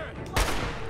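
A single close gunshot blast cracks out midway through a short stretch of Fallout 4 combat, over a steady background hum.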